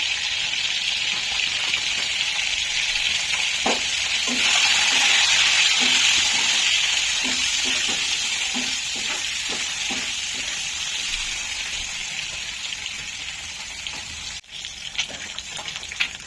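Eggs fry in oil seasoned with salt and a pinch of turmeric for an egg curry with cashews and raisins, a continuous loud sizzle with soft spatters and occasional stirring knocks, close by and gradually settling.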